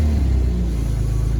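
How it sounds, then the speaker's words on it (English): A 1993 Toyota Supra SZ engine catching and settling into a loud, close idle, a deep steady rumble with a brief rise at the start and no talking. "let me just turn on the car right here"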